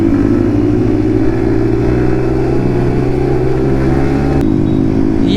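Yamaha MT-15 motorcycle fitted with an Akrapovic exhaust, heard while riding: a loud, steady engine drone with layered harmonics close to the mic, a brief shift in tone near the end as the revs change.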